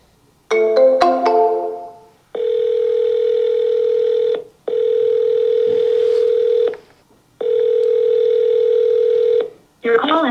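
An outgoing phone call is dialed with a quick burst of tones, then long, steady ringback tones sound in repeated evenly spaced rings, loud and clear with no talk over them.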